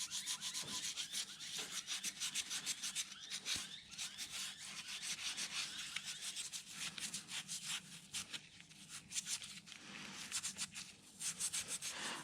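Grease is scrubbed off an aluminium shock linkage with degreaser, producing a continuous, quiet, close brushing and rubbing in quick back-and-forth strokes.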